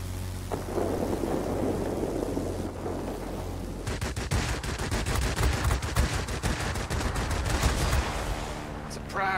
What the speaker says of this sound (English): A line of thunderstorms is approaching.